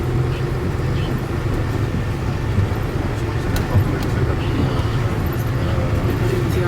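Heavy mining trucks rumble with a steady low engine drone at an open mining site, continuous and fairly loud with no talk over it.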